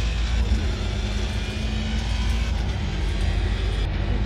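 A racing car engine in a driving simulator drones steadily and loud for the whole stretch, a dense low rumble with a faint higher whine and no clear revving peaks.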